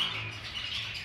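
Pet budgerigars in a group breeding aviary chirp continuously, a dense, steady chatter of many birds close by with no pauses.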